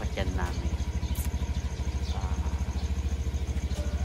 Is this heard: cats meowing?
no